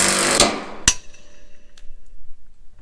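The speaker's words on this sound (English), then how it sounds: "I dropped that bolt" Metal bolt dropped during wheel and bracket work, landing with a sharp bright clang near the start, then a quieter tick or bounce, under a brief fading rush of noise.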